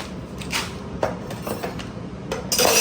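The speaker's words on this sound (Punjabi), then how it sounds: "ਇਹ ਡੋਰੀਆਂ ਤੇ ਕੜਛੀਆਂ ਪਾ ਅਲੱਗ-ਅਲੱਗ ਸਾਰੇ ਕਟਲਰੀ ਬਾਕਸ ਦੇ ਵਿੱਚ ਇਸ ਤਰ੍ਹਾਂ ਰੱਖ ਦਿੰਦੇ ਆ" Metal ladles and spoons clatter and clink as they are dropped one by one into a cutlery box in a home kitchen, a few sharp clanks spaced apart, then a louder rattling jumble at the end.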